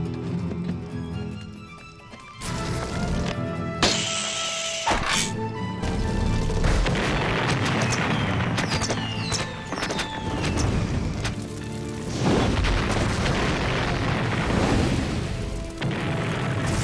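A dramatic explosion scene from a Zorro adventure series, with booming crashes and smashing impacts layered over loud orchestral score, no speech heard.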